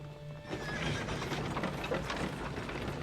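Horses whinny and neigh with hooves clip-clopping in a Game of Thrones scene, a loud whinny rising after a quiet start, then steady hoofbeats and stirring continuing to the end.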